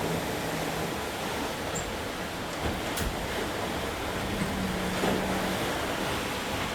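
Open ocean waves washing around a sailboat at night, a continuous broad rushing surge with wind noise on the microphone, loud and steady with no talk.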